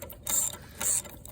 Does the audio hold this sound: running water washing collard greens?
no